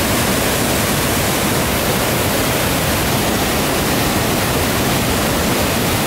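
Loud, steady roar of a waterfall, broadband rushing water filling the whole clip with no pauses or voices.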